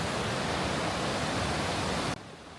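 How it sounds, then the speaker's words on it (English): Rushing river rapids roar in a broad, steady wash of water close by, then abruptly drop to a quieter hiss near the end. "the rapids create such a beautiful noise"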